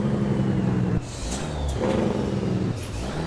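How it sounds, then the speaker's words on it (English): Jake brake on a Peterbilt 352 cabover in American Truck Simulator: a steady, loud low engine drone and rumble with a shift near the middle, continuing under an airy hiss. "let's get our Jake brake going"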